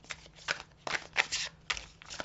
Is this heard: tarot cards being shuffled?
yes